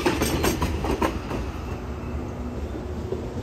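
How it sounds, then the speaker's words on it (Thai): Thai express train No. 31 Thaksinarath pulls into Hat Yai Junction, its wheels giving a rolling clickety-clack over the rail joints that starts strong and gradually settles into a softer steady rumble as it slows. "ขบวน31ทักษิณารัตน์ถึงชุมทางหาดใหญ่ครับ"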